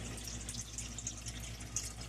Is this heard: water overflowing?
yes